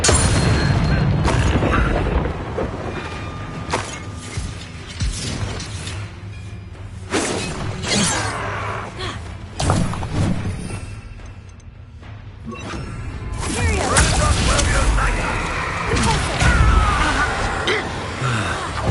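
In Hogwarts Legacy the Bombarda explosion spell goes off repeatedly, and each cast brings bursts of booms, shattering debris and whooshes. The noise is dense and loud, and a voice calls out over the chaos at intervals.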